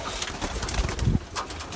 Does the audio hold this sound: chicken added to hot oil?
no